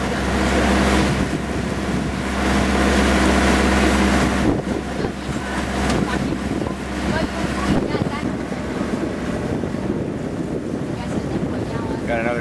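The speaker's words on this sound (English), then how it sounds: "Wind's doing about 10 to 15." Steady wind of about 10 to 15 knots on the Intracoastal Waterway, heard from a boat as continuous loud buffeting and rushing across the microphone with a low drone underneath.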